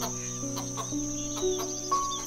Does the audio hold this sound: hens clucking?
yes